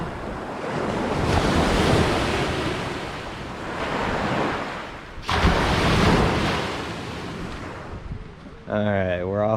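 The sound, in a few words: lake waves on the beach at Little Sand Bay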